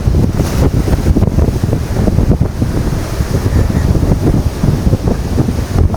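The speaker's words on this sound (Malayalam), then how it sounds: "ഈ കാണുന്നത് ഹെവി കാറ്റ്" Strong typhoon wind in Hong Kong batters the microphone in loud, continuous gusts, a dense roaring buffet with no clear break throughout.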